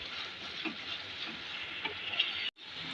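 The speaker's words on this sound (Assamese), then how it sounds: "এতিয়া অলপ সময় মিডিয়াম ফ্লেমতে কণ্টিনিউ লৰাই থাকিম আৰু এইখিনি চিকেনখিনি অকণ ফ্ৰাই কৰি ল'ম" Chicken with capsicum, onion and masala is stirred and fried in oil over a medium flame: a soft, steady sizzle with occasional faint scraping strokes of the spoon, low in level, cutting off abruptly near the end.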